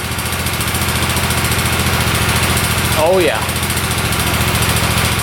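A cheap used motorcycle's engine runs steadily with the choke off, a close, even idle with a brief voice exclaiming midway.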